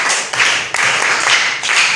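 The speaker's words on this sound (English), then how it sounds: "Give him a clap." Audience in a classroom quiz setting claps for a correct answer, several quick bursts of hand-clapping that come in rhythmic pulses, close and fairly loud, with no talking.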